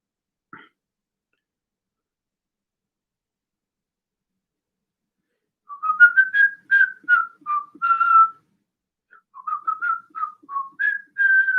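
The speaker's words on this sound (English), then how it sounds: "I'm whistling. I'm not singing. I'm whistling." A man whistles a tune in two short bursts of quick melodic notes, close and clear against silence, after a brief noise near the start.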